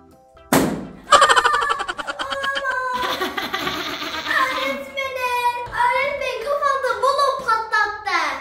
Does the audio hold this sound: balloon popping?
yes